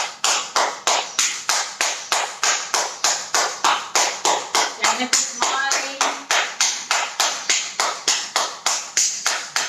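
Steady, rhythmic grip clapping during a stretching yoga session, sharp hand claps repeating at an even brisk pace, close and loud, with a brief voice speaking over the middle.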